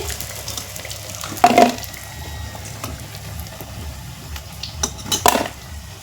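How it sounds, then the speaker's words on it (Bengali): Fried potol (pointed gourd) chops are lifted from the pan onto a plate, making a few clinks and scrapes of metal utensils against cookware over a quiet kitchen background. "এখন আমি এই চপগুলো একটা থালায় নামিয়ে নিচ্ছি"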